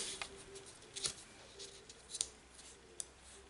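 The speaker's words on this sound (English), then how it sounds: "we're just going to grab a bone folder. And we want to really burnish these pieces," A bone folder burnishes paper folds on a half curtain fold card, giving quiet, close rubbing and scraping strokes in short irregular bursts with soft clicks between them.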